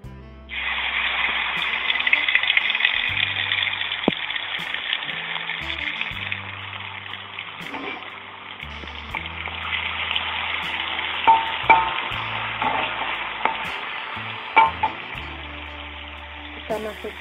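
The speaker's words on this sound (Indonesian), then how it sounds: "sekarang kita tumis sebentar" Ground spice paste of shallots, chili and galangal stir-fried in a pan, with steady sizzling and frying hiss, scraping stir strokes and occasional clinks over about seventeen seconds.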